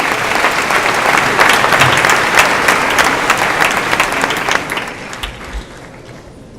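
An audience claps together for several seconds at a public talk, a dense steady patter that fades out toward the end, with no voices over it.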